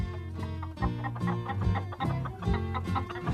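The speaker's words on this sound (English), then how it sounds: "I saw 3 naughty hens who tried to steal my sandwiches." Hens cluck in short, repeated bursts under a steady layer of cartoon music and background sound, the clucks close and moderately loud throughout.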